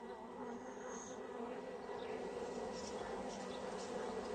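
A captured swarm of honey bees hums at its hive box, a continuous low buzzing drone that stays steady and fairly faint throughout, with no talking.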